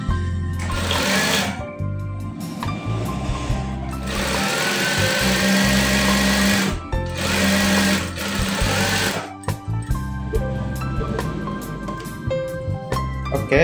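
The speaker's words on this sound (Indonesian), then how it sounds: "Kemudian kita jahit." A sewing machine stitches the cuff placket of a child's shirt in loud, close bursts of rapid needle strokes, pausing between runs with handling noise in the gaps.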